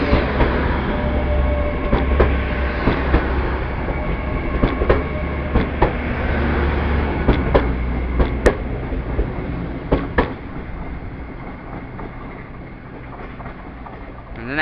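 A Class 802 train at Plymouth station, its loud steady engine and rolling drone running throughout, with sharp wheel clicks and clunks over the rails, fading slightly toward the end.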